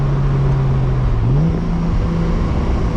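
A Toyota Supra MK4 on a spirited drive hums loudly at a steady pitch from inside the cabin, then shifts with a small rise in engine note, under constant road noise.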